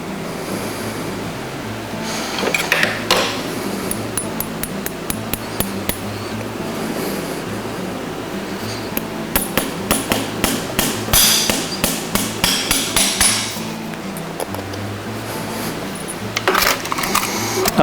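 Rhythmic, sharp hammer taps drive race-5 horseshoe nails through a Kerckhaert SX roller shoe into a horse's front hoof, coming in quick bursts of ringing metallic blows separated by brief pauses.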